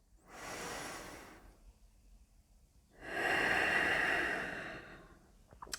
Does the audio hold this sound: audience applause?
no